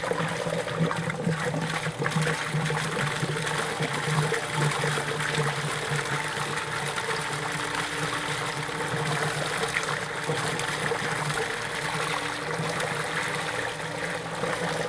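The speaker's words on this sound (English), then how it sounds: "Going to add a little bit more water." Water pours and trickles steadily into a flush cart as a pump runs during plug-and-play flushing, a constant close rushing and splashing with a low mechanical hum underneath and no talk.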